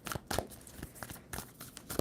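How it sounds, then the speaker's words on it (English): Tarot cards being shuffled by hand, a series of crisp papery riffling and snapping bursts, close and fairly quiet, with no talking. "2 more shuffles"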